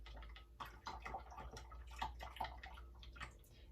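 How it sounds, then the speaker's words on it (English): Yeast sloshed around in a bowl of water by hand, giving soft, irregular splashes and swirls at close range, with faint clicks and a low steady background hum. "sloshing the yeast around in the water"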